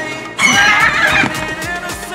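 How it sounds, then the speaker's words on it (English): A horse in the Roblox game Guesty gives a loud, close whinny lasting about a second, followed by a few soft clip-clop hoof sounds, with no voices. "one of the horses seemed to be a bit restless"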